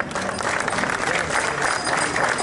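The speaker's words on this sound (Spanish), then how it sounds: "un aplauso por favor" Audience applauding at a book presentation in a Guatemala City neighbourhood event, dense clapping throughout with some crowd murmur underneath.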